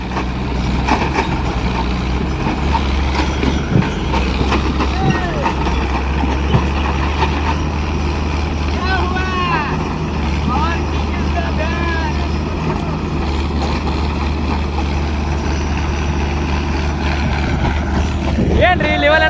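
Mahindra Arjun Power King tractor engine running loudly and continuously at a tractor pulling contest, a steady low droning roar throughout with crowd voices and shouts over it.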